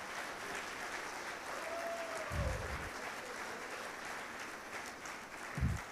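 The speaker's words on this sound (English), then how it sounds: "please a round of applause for the awesome Sherpas" Audience applause at a talk for the Sherpas who guided a climb to the top of the world, a steady wash of clapping heard faintly from a distance, with no voices over it.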